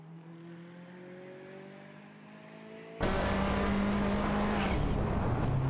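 Race cars, including a Mazda RX-7, in an AI racing video game: a steady engine drone with a rising pitch, then an abrupt jump to a loud, dense roar of engines and road noise.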